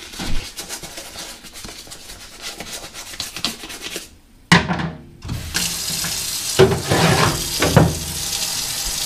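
Muddy work boots scrubbed under a running tap: water streams and splashes while the leather is rubbed, with a brief pause before the flow resumes louder.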